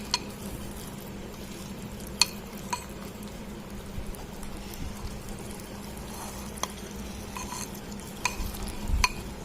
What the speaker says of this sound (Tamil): இப்போ நம்ம இதில் எல்லாம் மிக்ஸ் பண்ணி விட்டுக்கலாம்.